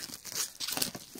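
Tight plastic wrap is torn and crinkled off a parcel of books, a close burst of ripping and crackling that comes in uneven surges, with no speech.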